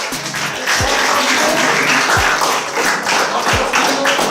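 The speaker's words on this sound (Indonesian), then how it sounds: "Ya, tepuk tangan ya." Applause at a high school student council (OSIS) event, a dense burst of clapping from a crowd of students that holds steady and loud, with a few soft low thumps underneath.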